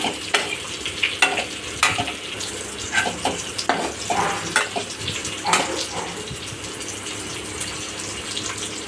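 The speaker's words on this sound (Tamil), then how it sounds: "பவுடர் எல்லாமே அந்த காலிஃப்ளவரோடு நம்மளுக்கு போட் ஆகிற மாதிரி நல்லா மிக்ஸ் பண்ணிக்கோங்க" Cauliflower pieces are stirred with spice powder in a pan for gobi pepper fry, a spoon scraping and tossing in repeated close strokes over a faint sizzle.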